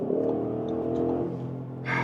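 Audi SQ8 accelerating hard under full pedal, a rising engine roar with harmonic tones climbing steadily, heard from inside at moderate level, ending in a brighter burst of noise.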